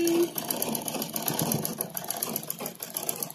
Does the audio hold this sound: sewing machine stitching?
yes